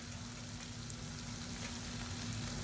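Cooked basmati rice mixed in a pan for a one-pot variety rice: a soft, steady frying hiss with faint stirring scrapes, quiet and continuous, no voices.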